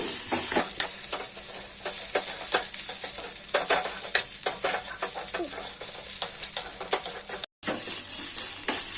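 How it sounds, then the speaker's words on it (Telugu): Banana flower with salt and turmeric is stirred in hot oil, giving a dense sizzle with repeated scraping and clattering spoon strokes against the pan and a short silent break near the end. "ఇప్పుడైతే కలుపుకుందాం ఆయిల్లోనే మగ్గాలండి"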